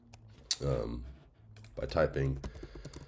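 Typing on a computer keyboard while entering a ChatGPT prompt: scattered key clicks in two short bursts, partly under a voice talking nearby.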